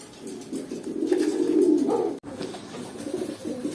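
Fantail pigeons coo close by in soft, throaty rolling calls that swell and overlap, pause briefly, then resume more quietly.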